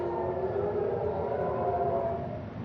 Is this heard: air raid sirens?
yes